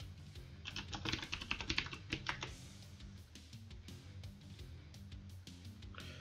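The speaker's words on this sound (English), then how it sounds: "You can hear my keyboard clacking." Rapid keyboard typing clacks, a busy burst of keystrokes early on that continues more sparsely, close up with no voices.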